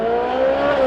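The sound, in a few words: car engine revving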